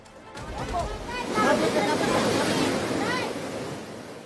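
Fast-moving floodwater in a flash flood in Sultan Kudarat rushes in a loud, continuous roar. Raised voices and shouting come through over it, and the torrent swells slightly partway through.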